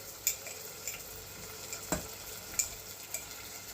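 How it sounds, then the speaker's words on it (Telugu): Onions frying in oil in a pan for a home-cooked royal curry, a faint steady sizzle with a few light clinks and stirring scrapes spread through the clip, no talking. "ఉల్లిపాయలు బాగా ఫ్రై అవ్వాలి."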